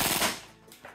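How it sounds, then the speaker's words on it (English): A short, rapid burst from a Vorsk VMP-1 gun fired braced against the shoulder, loud and close with a fast, high rate of fire that decays quickly. "get off a burst if I can brace it against my shoulder, and we'll see what the fire rate is"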